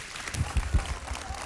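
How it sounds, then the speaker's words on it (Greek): Studio audience clapping at a television talent show taping, a short steady burst of applause at moderate level with a few sharper claps standing out. "ένα μεγάλο χειροκρότημα"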